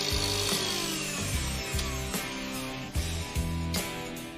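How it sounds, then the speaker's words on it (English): An electric whisk beats egg whites to stiff peaks in a home kitchen. Its steady, whining motor drone pulses with a rough, repeating rhythm, and the sound is close and continuous, with no voices. "Then whisk the egg whites to stiff peaks."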